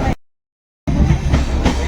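Rumble and clatter inside a moving passenger train in India, a steady loud low roar with rail noise, broken by a stretch of near silence before the rumble resumes.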